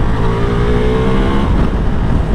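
A Ducati V4 adventure motorcycle, Multistrada V4 S or V4 Pikes Peak, pulls hard under throttle, its engine a loud, close, continuous rising growl with rushing wind and no voices.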